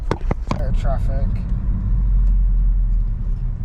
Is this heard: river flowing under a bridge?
no